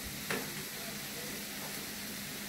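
Vegetables fry in oil in a pan over a gas flame, a steady, close sizzle that runs throughout with a brief stir-like knock near the start and no voices.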